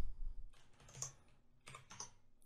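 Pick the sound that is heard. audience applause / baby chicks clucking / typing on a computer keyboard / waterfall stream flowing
typing on a computer keyboard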